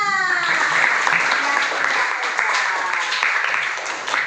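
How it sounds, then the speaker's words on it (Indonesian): A crowd applauds with dense, sustained clapping at a primary school, loud and close, with voices mixed into the noise. "Tepuk tangan untuk kita semua."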